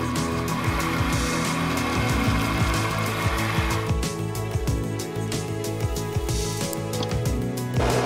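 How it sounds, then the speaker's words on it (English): A milling machine in a home workshop drills and taps a wheel and arbor for a grub screw: a continuous close motor whine with repeated cutting scrapes and clicks, steady throughout. "The wheel and arbor were taken to the mill to drill and tap, ready for a grub screw."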